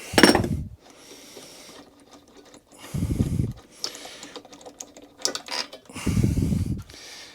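A socket wrench ratchets as the spark plug is worked out of a Mountfield 164 lawnmower engine, with bursts of clicking and low clunks in short spaced strokes, close and fairly quiet.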